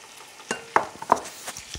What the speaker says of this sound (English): And why it's sautéing right now in the skillet